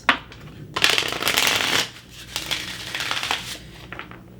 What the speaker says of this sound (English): So I feel like this deck might need to be shuffled a little bit more